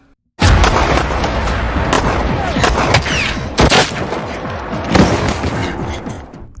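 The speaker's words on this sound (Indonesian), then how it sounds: "Tepat ketika Mike muncul di sana dan langsung menembaki mereka." A film shootout plays as a sudden, loud burst of gunfire with booming reports and rapid overlapping shots. The barrage holds for several seconds and swells again near the end, with no talking over it.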